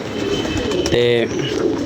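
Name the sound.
pigeons cooing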